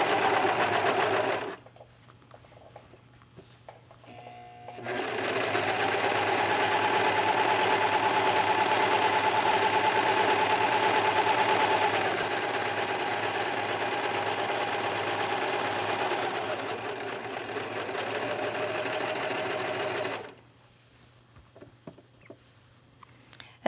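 A sewing machine stitches a clean-finish skirt hem in two sustained runs, a long steady whir with a brief start before it, then falls quiet apart from faint handling noises.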